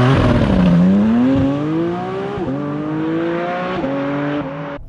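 Porsche 718 Cayman GT4 RS engine pulling loudly while driving, its pitch sweeping down then climbing steadily through two upshifts, with brief dips at each gear change and a continuous high-revving drone throughout.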